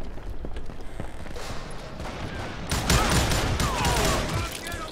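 Rapid gunfire from a fast-firing gun in the Call of Juarez: Gunslinger video game, a dense fusillade of bursts that swells louder after a couple of seconds, with game effects and a voice faintly under it.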